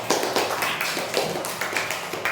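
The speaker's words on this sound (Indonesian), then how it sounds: "Tepuk tangan buat Napil." A classroom of students claps for a classmate, a quick burst of dense, fairly close hand claps running steadily from start to end with no voices over it.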